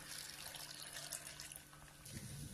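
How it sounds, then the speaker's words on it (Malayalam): A steady rush of running water fills a cooking pot, continuous and fairly close for a couple of seconds. "കുറച്ച് വെള്ളം അധികം ചേർത്ത് കൊടുക്കാം."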